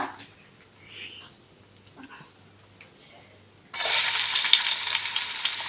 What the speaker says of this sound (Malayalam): ആദ്യം തന്നെ കുറച്ച് ഉള്ളി വറുത്തെടുക്കുക